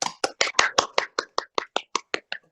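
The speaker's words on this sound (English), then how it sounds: "Could we give her a little round of applause to welcome her?" A small group at a county political meeting gives a short round of applause, about thirteen distinct, fairly sparse claps in an even rhythm that fades toward the end.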